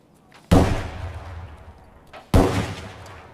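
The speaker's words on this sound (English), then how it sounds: "Yeah, it must be shooting at me." Two sharp gunshots from the video game Escape from Tarkov crack out about two seconds apart, each loud with a rumbling decay, with no talking.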